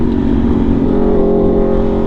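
An Aprilia motorcycle engine revs hard while being ridden, a loud, steady, close-up roar with strong low harmonics and a throaty exhaust note held throughout.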